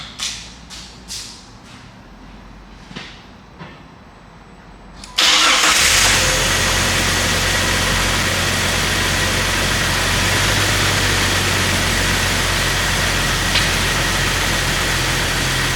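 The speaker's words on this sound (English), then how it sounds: "I'm going to start the truck." A Jeep Wrangler 4.0L engine is started close up: several sharp clicks and short bursts of cranking lead to a sudden loud catch, then a steady rough idle holds for the rest of the clip without any stall.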